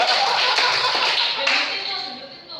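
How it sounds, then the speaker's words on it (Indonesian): An audience of people clapping their hands together in a dense burst of applause that stays strong, then eases off and thins toward the end. "Tepuk tangan dong."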